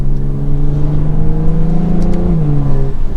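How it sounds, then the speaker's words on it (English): A 2022 BMW M440i Coupe revs hard in sport mode through its exhaust, a loud, throaty drone climbing in pitch then dropping back, close by with no talking. "The exhaust got quite a lot louder. You already heard that in the rev."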